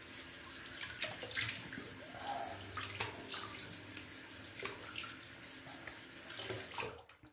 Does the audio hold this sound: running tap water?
yes